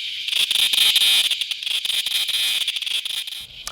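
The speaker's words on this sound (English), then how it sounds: "Cicadas are known for their loud buzzing during the summer months." Insistent high-pitched buzzing of periodical cicadas from a brood emerging in summer, a dense continuous whine with rapid pulsing and slight rises and falls, heard alone without speech.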